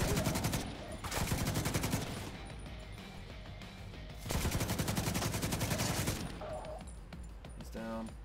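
Loud automatic gunfire in The Division 2 arrives in long sustained bursts separated by quieter gaps, close and harsh, with a final shorter burst at the end.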